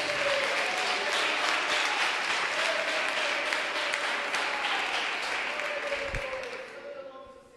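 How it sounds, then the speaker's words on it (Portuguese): Church congregation applauding at a worship service, a dense sustained wash of clapping from a large crowd that holds steady before tapering off near the end. "Dá uma salva de palmas para Jesus"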